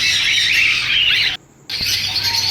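Caged finches at a Sunday bird market in Bahawalpur chirp and squawk in a busy, overlapping chorus of high calls, loud and close, with a brief drop to near silence partway through.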